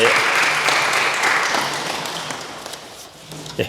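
A church congregation at a Korean church in Hanover applauds in a sustained wash of clapping that slowly fades, with a few louder claps near the end.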